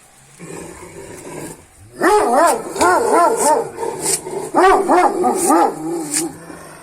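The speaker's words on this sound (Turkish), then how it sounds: "işte sarı köpek bu" A yellow dog barks repeatedly and close, a rapid series of sharp, high, yelping barks in two clusters with brief pauses between them.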